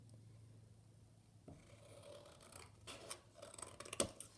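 Scissors cut a pentagon shape out of paper on a table covered for origami star crafting, starting with quiet faint snipping, then closer rustling and crisp cuts with a sharp snip near the end.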